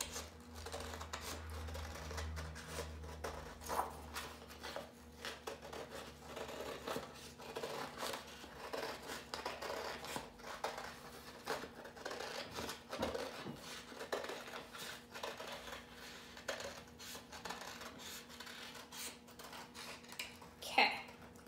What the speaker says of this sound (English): So we're gonna cut out the circle.